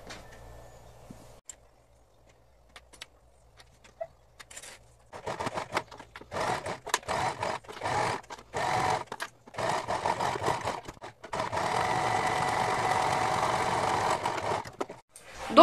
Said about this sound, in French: vous allez venir passer une couture au point droit ici et après vous allez venir faire un point zigzag